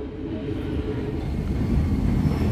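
The Cikuray passenger train heads into Cicalengka station, heard from inside an economy coach as a steady deep rumble that swells slightly toward the end, with no talking.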